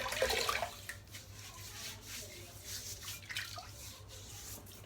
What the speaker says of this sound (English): Just adding a little bit of water